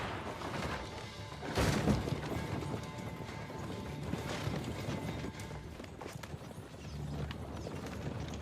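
Hooves of a galloping horse in Assassin's Creed: Brotherhood clatter in a fast rhythmic clip-clop, with a loud crash near the start and busy game noise around it.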